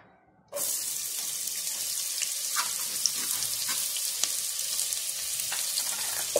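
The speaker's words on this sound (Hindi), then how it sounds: "और इसी के अंदर मैं अभी प्याज ऐड करूंगी, चॉप किया हुआ प्याज डालेंगे।" Chopped onion dropped into a hot pan for a Veg Kolhapuri curry, starting with a sudden loud sizzle that settles into a steady, close hiss of frying with occasional faint pops and clinks.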